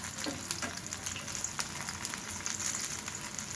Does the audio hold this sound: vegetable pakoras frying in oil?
yes